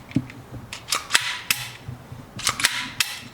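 Slide of a KelTec PMR30 .22 Magnum pistol with a plastic frame snapping forward and being worked, a series of sharp close metallic clicks and clacks in two bursts with brief pauses between.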